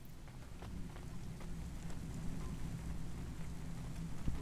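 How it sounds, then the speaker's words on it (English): Steady rain falls in the Civilization VI strategy game: a continuous, faint hiss with scattered patter and a low rumbling undertone, with no talking. "Don't let all the rain get you down."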